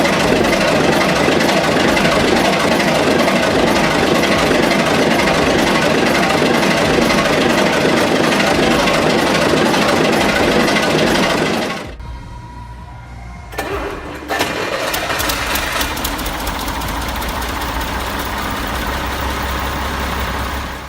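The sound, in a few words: 6S37 old engine starting and running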